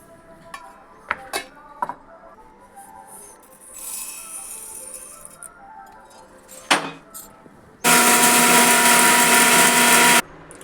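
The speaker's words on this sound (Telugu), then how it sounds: "ఇవన్నిటిని మనం గ్రైండ్ చేసుకుందాం. చల్లారింది, గ్రైండ్ చేసుకుందాం." A kitchen mixer grinder grinding cooled, deseeded amla (Indian gooseberry) pieces, with scattered clicks and clatter of the jar first, then a loud steady high-pitched whirring run of about two and a half seconds that cuts off abruptly.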